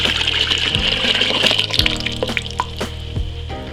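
Water poured by hand into grain for old-school all-grain beer: a loud, close gushing splash with drips and sloshing, easing into scattered drops over a few seconds.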